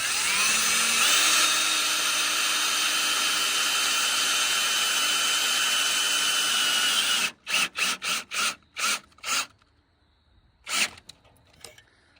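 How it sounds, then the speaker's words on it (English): A power drill drives self-tapping screws into an aluminum bracket, whining steadily for several seconds and then running in a series of short, loud bursts with pauses between them, up close with no talk. "I'm putting this bracket in here now with self-tapping screws into the aluminum."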